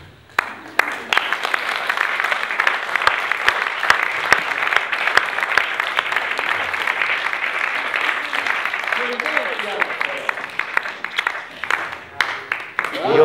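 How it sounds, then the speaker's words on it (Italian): Sustained audience applause fills an auditorium after a musical hypnosis show, greeting a woman named Rosanna as she wakes. Dense, steady clapping runs throughout at high volume, with scattered sharper claps and a few voices mixed in. "Ma devi tornare tra noi e prenderti il tuo applauso."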